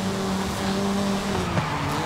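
A car in the racing video game Forza Horizon 5 drones with a steady engine roar and a faint tire squeal, heard close and continuous with no voices.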